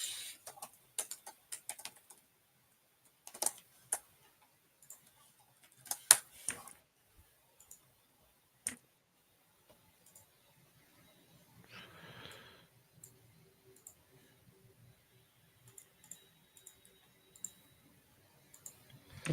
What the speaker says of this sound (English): We were all typing in the background.